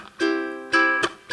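Two bright strummed chords ring out on a ukulele, each followed by a short muted percussive chunk.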